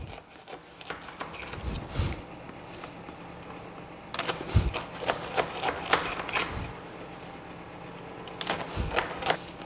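A knife scores through baked namoura, a Lebanese semolina cake, in its pan, making soft scraping cuts in a few separate bursts of crackly clatter against a quiet background.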